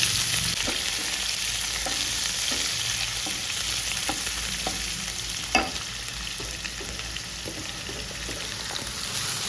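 Mustard seeds, cumin, curry leaves and onion frying in hot oil for a South Indian okra palya, giving a continuous sizzle with scattered light pops and occasional stirring scrapes, close by and free of talk.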